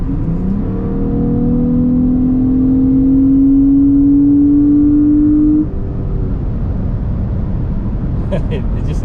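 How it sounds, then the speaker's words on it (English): A Ford Fusion Sport with a 3.5L Duratec engine revs up, its loud rising engine note building steadily for several seconds before cutting off, followed by a few faint clicks. "this car sounds really good"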